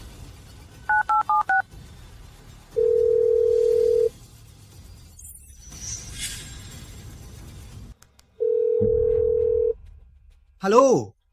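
Telephone dialing: a quick burst of keypad tones, then two long steady tones separated by a pause while a call is placed to Mr. Luntok, with faint background sound between and a brief rising sound at the end.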